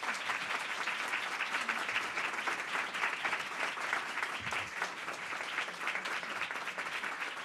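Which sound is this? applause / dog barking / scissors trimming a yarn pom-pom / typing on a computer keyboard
applause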